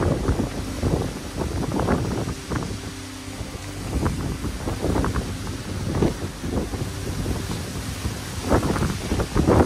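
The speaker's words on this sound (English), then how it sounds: "the wind is definitely way more intense than normal, especially when these giant gusts come through" Strong hurricane wind during Hurricane Ian in Tampa Bay, Florida roars and buffets the microphone in repeated surging gusts, with a constant broadband rush filling the whole stretch and no talk.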